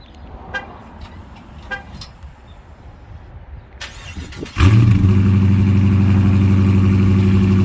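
After a few faint clicks, the stock 5.7-litre V8 of a 2020 Dodge Charger R/T cold-starts, cranking and roaring to life loudly, then settles into a deep, steady rumbling idle nearby.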